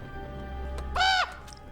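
A three-eyed raven from Game of Thrones gives a single short, harsh caw over a quiet background.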